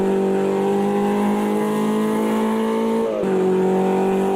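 A BMW 2002 Turbo in the Automobilista 2 racing game drones loudly at steady revs, then dips sharply on overrun with a quick downshift blip before the raspy exhaust note settles again, with no voices.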